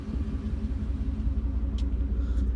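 A 2006 Ford F-150 Harley-Davidson edition pickup idles steadily with a deep, even low rumble that stays constant and close throughout, with no talking.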